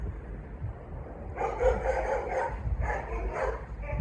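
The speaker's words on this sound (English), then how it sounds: "Neighbor's dog going crazy." A neighbor's dog barks excitedly outdoors in Southern California during a rocket launch, two rapid bursts of several barks each, moderately distant over a low background rumble.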